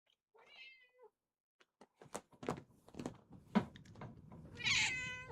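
A house cat meows several times close by during mouse modding, with soft thumps and knocks between the calls and a final drawn-out meow.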